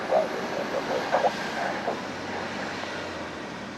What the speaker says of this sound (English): Another Alaska Airlines E-Jet, flight 3307, is just about to arrive from Boise, Idaho